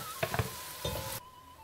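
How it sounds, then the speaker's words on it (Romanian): Sizzling from a hot pan as vegetables drop into fat left from frying pork ribs and sausages, with a few clattering stirs before the frying hiss settles and then cuts off. "le vom adăuga aici, în aceeași grăsime în care am prăjit coasta și cârnații"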